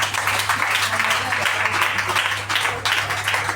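A church congregation applauding the Lord during a French-language sermon: dense, steady clapping that carries on for several seconds, with a low hum running underneath.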